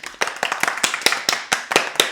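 Roughly ten sharp, evenly spaced hand claps ring out close by, each a crisp separate burst in a steady rhythm, with no talking over them.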